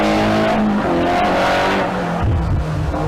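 A turbocharged Datsun 1600 race car at a sprint event roars loudly nearby, its engine note rising and shifting through gears with a rough, strained edge.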